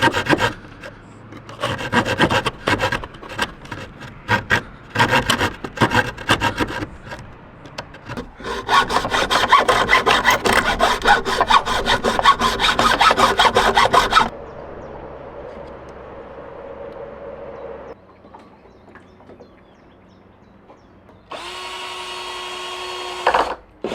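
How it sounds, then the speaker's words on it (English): A small blade on a multi-tool saws through wooden planks for a boat platform, with bursts of rapid rasping strokes, pauses between cuts, then a sustained stretch of steady scraping up close. "Let's see if it'll cut these remaining 2 planks."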